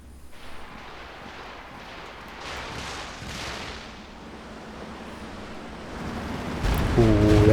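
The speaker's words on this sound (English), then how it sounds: "Ooh, that's a good barrage." Artillery barrage in Company of Heroes 2, a dense rolling rumble of distant shell impacts that swells and thickens toward the end, with no voices over it.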